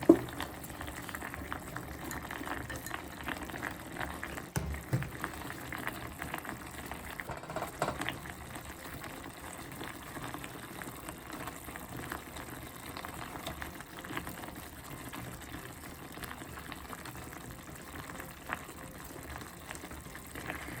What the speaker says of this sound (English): No, boil another 5 minutes.